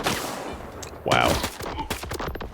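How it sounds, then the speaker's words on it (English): Shotgun blasts ring out in the shooter game S.T.A.L.K.E.R. 2, a rapid cluster of sharp bangs over about two seconds, loud and close, with a voice briefly audible among them. "they are pretty accurate, those shotguns, man"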